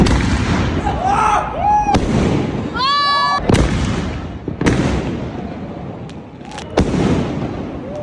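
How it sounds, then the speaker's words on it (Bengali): New Year's Eve fireworks at a 31st-night party: whistling rockets rise and burst into loud, sharp bangs several times in a row, with people talking and cheering in the background. "আর তাই আমরা চলে গেলাম ফায়ার ওয়ার্কসের জন্য"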